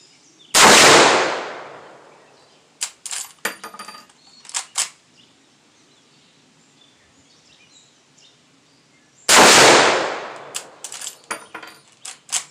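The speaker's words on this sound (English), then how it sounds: "we're going to go ahead and scoot back to the 65-yard range and shoot it off the bench" Two loud, sharp Marlin .444S rifle shots fired from a bench at the 65-yard range, spaced several seconds apart, each with a long decaying rumble, and a few faint clicks and clunks of handling between them.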